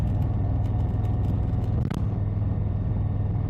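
A motorcycle rides along an empty road at night, its engine giving a steady, loud low rumble throughout with a brief dip in the middle, and no other traffic around.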